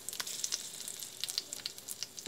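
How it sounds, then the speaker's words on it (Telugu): Green chillies sizzle and fry in hot oil with cashews for mutton biryani, a steady crackling hiss dotted with sharp pops, close and continuous. "ఇప్పుడు మనం మిర్చి వేసుకుందాం, కలుపుకుందాం."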